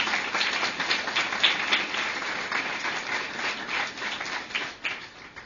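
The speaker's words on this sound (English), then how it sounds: "So let's give them all a big round of applause." Audience at the Josephine Commons grand opening giving a round of applause, a steady patter of many hands clapping at moderate distance, sustained evenly and easing slightly near the end.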